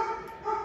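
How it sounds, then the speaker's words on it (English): A dog barks in the background, two short muffled yelps heard from another room with no talking over them. "Sorry about Charlie barking in the background."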